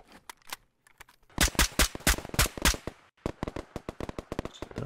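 Gunfire from a firefight in Operation: Harsh Doorstop co-op mode: sharp rapid cracks in bursts, a dense run of close shots in the middle, scattered quieter pops before and after.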